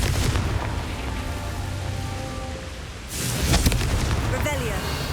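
Confringo blasting spell explosion in the Hogwarts Legacy video game: a sustained broadband roar that swells into a louder burst partway through, thick with low rumble and crackle.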